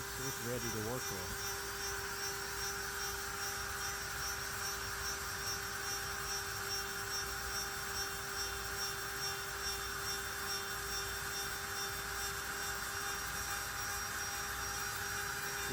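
A CNC lathe turns a wooden pool cue with a continuous whirring, whining hum and steady cutting hiss that holds at an even level the whole time, while someone talks over it.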